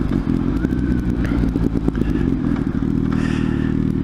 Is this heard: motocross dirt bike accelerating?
yes